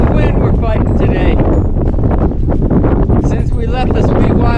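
Strong headwind buffeting the microphone on a long-distance cycling tour along the TransAmerica route, a loud, continuous roaring rush with gusty swells throughout, and voices faintly under it.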